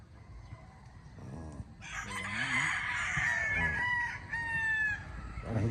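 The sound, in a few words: gamecock rooster crowing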